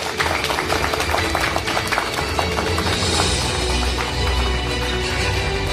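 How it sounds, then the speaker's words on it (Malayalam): An audience at a ceremony where mementos are handed over claps in a dense, continuous round of applause, fairly loud and sustained from start to finish. "ഒരു നല്ല കൈയടി കൊടുക്കാം"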